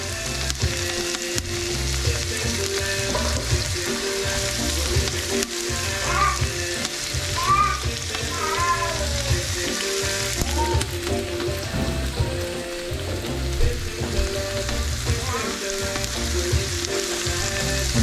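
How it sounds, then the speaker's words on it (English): Leeks and celery sautéing in oil in a pan for potato leek soup, a steady dense sizzle with crackling spatters running throughout, close and fairly loud, no talking. "Let that saute down and just add a little bit more oil."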